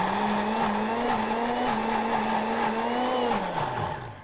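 Countertop blender whirring steadily as it purées pea velouté with added milk, a loud continuous motor drone with a droning hum that dips in pitch near the end as the thick soup loads the blades.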